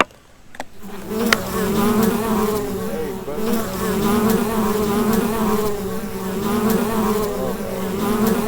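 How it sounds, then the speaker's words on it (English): Bees buzz steadily and loudly throughout, a dense continuous drone close by with a few sharper passes, heard while visiting a cave area, with no talking. "Protect the bees, bro."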